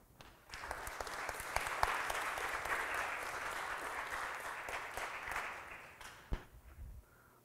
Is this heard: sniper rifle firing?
no